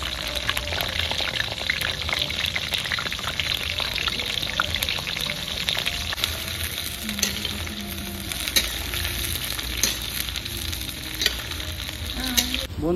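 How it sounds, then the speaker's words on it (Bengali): Cauliflower pieces fry in hot oil, a loud, steady, dense sizzle and crackle running without a break, with occasional stirring scrapes and bubbling. "ফুলকপিটা ভাজা করে নেবো"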